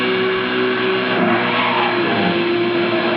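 A car engine in a racing video game revs steadily with a sustained, even drone and some rising pitch, loud and continuous throughout.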